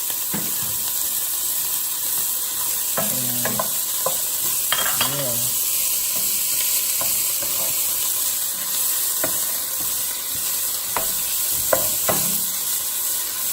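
Mushrooms sizzling in a pan while being mixed, a constant fry hiss broken by clinks and scrapes of a utensil, loud and close with no voices.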